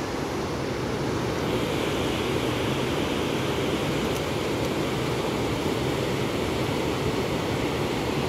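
Rain-swollen Badigad river in Baglung, Nepal, rushing in flood after continuous rain, a loud, steady broadband roar of churning water filling the whole stretch without a break.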